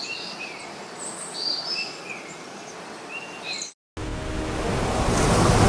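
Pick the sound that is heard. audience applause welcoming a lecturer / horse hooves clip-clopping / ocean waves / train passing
ocean waves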